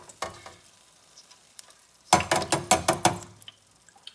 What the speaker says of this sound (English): Okay, so I'm going to pull these out, and I'm going to drain the oil with it.